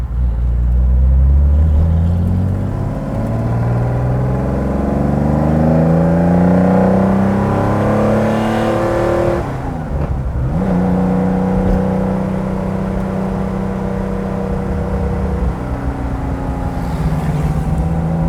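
A 1970 Porsche 914-6 GT engine revs and pulls away, its pitch rising through the gears, close and loud, with a short lull before it climbs again.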